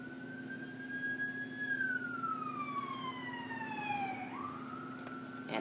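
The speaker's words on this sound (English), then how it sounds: "I hear sirens." A wailing siren sweeps slowly up and down in the distance, steady and moderately faint over a low background hum.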